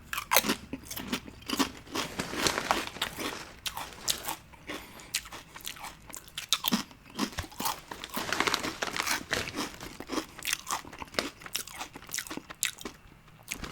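Close, crisp crunching and chewing of sour cream and shamrock Irish potato chips, with repeated bites and crinkling of the bag in an irregular rhythm throughout, no talking.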